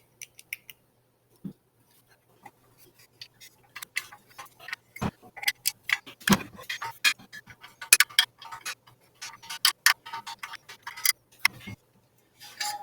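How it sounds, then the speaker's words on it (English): Ratchet with a 3/8 socket turning top bolts on an engine, a close series of sharp rapid clicks in short irregular bursts separated by brief pauses, with no talk. "Got a 3/8 socket to fit on these top bolts"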